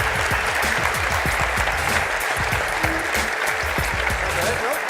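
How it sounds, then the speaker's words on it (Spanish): An audience claps together in a dense, steady round of applause that holds at an even level for the whole stretch, with no voices standing out. "un aplauso para Esfir y Almudena por colaborar aquí con nosotros."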